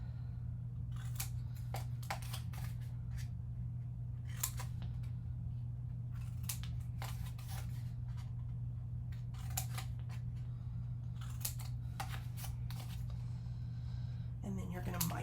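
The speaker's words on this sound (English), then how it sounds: "getting my scissors up against the side of the chipboard" Scissors snip corner squares out of chipboard for a scrapbook folio, a series of quiet, sharp cuts spaced irregularly over a constant low hum, with a brief rustle at the end.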